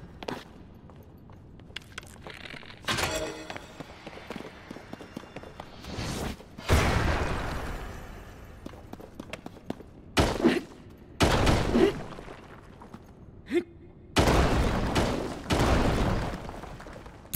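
Bombs blowing up in The Legend of Zelda: Tears of the Kingdom, heard as several loud, sharp bursts spread unevenly across the stretch, each with a rough, noisy tail, separated by quieter in-game ambience and light steps.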